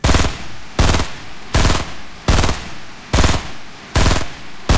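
Loud, close gunfire in the Fortnite video game, fired in six regular short bursts of rapid shots with brief gaps of quiet between them, and no talking.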